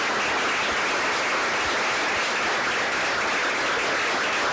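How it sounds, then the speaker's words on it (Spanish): Audience applause at a book presentation, a dense, steady round of clapping from a crowd that holds at an even, fairly loud level throughout with no talking. "Démosle un caluroso aplauso a Rosana"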